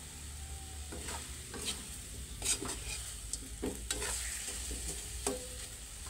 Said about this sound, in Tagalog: lulutuin ko yung manok sa konting sabaw na lang kasi gusto ko siyang parang na prito ng konti